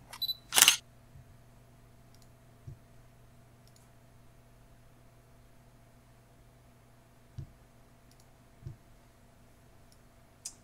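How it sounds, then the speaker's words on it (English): A single sharp camera-shutter click from a screenshot snipping tool sounds loudly near the start, followed by a few faint ticks over a quiet hum, with no talk. "Take a screenshot."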